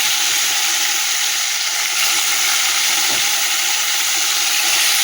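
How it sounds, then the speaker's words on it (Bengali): Fish frying in hot oil in a wok, a steady, loud, dense sizzle and crackle that runs evenly throughout without a break. "তেলটা তো গরম হয়ে গেছে, ভেজে নেবো।"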